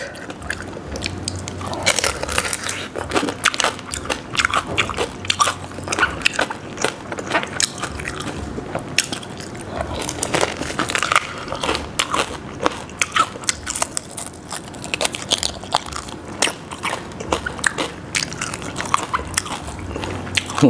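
Crispy deep-fried pork tail, vinegar-marinated, crunched between the teeth in a steady run of close, sharp, crackling bites and chewing with no talk.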